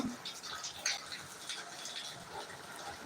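Heavy rain pours steadily nearby, a dense hissing wash with scattered splashes and drips running throughout without pause.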